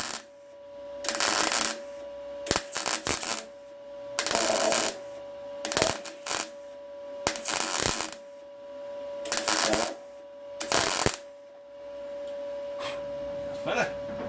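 Old welder working on a MKV Cortina car body during restoration, giving repeated loud crackling bursts of a second or so, separated by short pauses, with a steady electrical hum running throughout.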